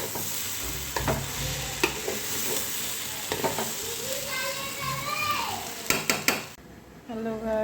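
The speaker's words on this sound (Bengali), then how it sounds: "পোলাও চালটা একটু নেড়ে চেড়ে পরিমাণ মতো জল দিয়ে দেবো।" Gobindo bhog polao rice being stirred in a pot, with a spoon scraping and clinking against metal in short irregular strokes over a soft sizzle, plus brief kitchen clatter near the end.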